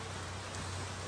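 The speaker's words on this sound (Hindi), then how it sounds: "आज भी दिन भर बारिश गिर रही है।" Steady rain falls during the rainy season, a dense, even hiss of drops close by that continues without break and with no voices.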